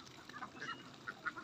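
Ducks quack at a duck farm in a few faint, short calls, scattered and somewhat distant over a low background hum, with a couple of closer quacks near the end.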